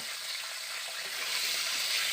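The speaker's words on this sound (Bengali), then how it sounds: "এবারে ওই তেলের মধ্যে দিয়ে দিচ্ছি কেটে রাখা গাজরগুলো" Chopped carrots hitting hot oil in a pan, giving a close, continuous sizzle and crackle that swells slightly toward the end, with no voices.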